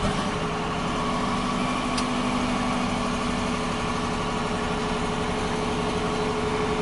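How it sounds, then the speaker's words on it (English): A 2014 Jeep Grand Cherokee Overland with a 5.7 liter Hemi V8 idles steadily after a remote start, a constant close engine hum with a faint brief tick near the middle, no talking. "It does have remote start, so I'm going to go ahead and start it up."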